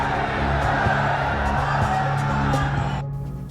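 A large crowd at Nitish Kumar's oath-taking ceremony in Patna claps and cheers loudly and continuously, a broad roar of applause that drops off sharply near the end.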